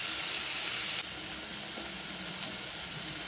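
Tomatoes with a pinch of asafoetida sauté in a pan for a red ponnanganni greens kootu, giving a steady, close hiss of frying with faint stirring throughout and no voices.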